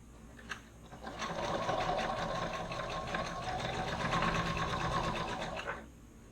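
A sewing machine runs steadily for about five seconds, stitching a seam on a fabric shoulder bag, with a brief start at the beginning and a clean stop near the end; no one speaks.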